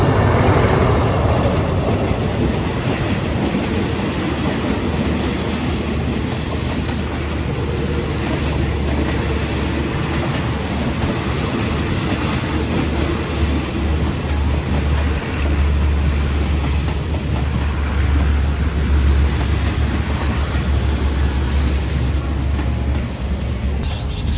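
A train rumbles steadily through Ratchaburi railway station in Thailand, a continuous loud roar with faint rhythmic wheel clatter throughout.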